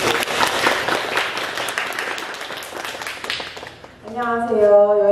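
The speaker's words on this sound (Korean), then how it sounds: "박수입니다." An audience claps at a travel-writing author talk: a few seconds of dense, fairly loud applause fade, and a voice follows.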